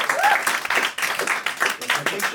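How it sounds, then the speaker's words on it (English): A theater audience at a cowboy poetry showcase claps steadily throughout, a dense, close wash of applause with rhythmic surges that carries on without a break. "Can we get another round of applause for everybody that came on the stage?"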